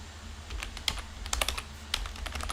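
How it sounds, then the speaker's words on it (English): An IP address is typed on a computer keyboard as a short, close burst of light, uneven key clicks with no voice. "type the IP address."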